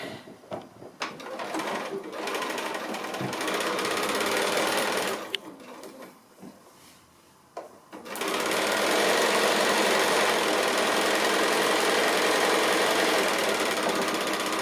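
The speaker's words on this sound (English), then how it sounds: "So now I'm just going to sew them together in pairs, and then join those pairs together and press it" A sewing machine stitches quilt block pieces together in bursts, its fast mechanical whirring running loud and steady, pausing with small clicks and handling sounds mid-way before a long unbroken run to the end.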